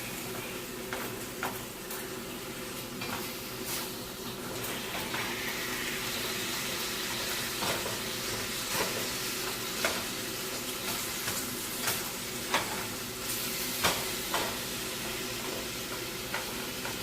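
Meat frying in a pan, a steady close sizzle running throughout with scattered sharp crackles and pops at irregular intervals.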